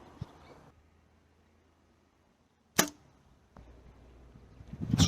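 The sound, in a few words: arrow shot from an archery bow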